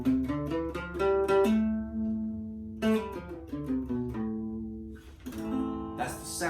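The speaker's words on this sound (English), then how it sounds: "today, I'm going to play the A natural minor scale." Acoustic guitar picking out the A natural minor scale one note at a time, ascending and ringing close and clear, with no one talking.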